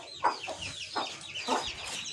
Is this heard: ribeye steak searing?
no